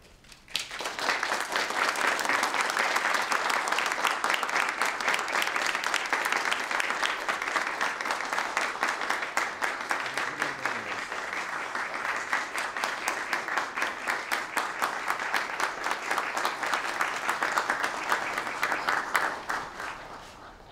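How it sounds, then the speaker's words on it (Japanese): Audience applause at the Tokyo Metropolitan Honor Award ceremony welcoming Kitasato University special honorary professor Satoshi Omura, a loud, sustained, evenly dense clapping from a large crowd lasting about twenty seconds before tapering off. "皆様拍手でお迎えください"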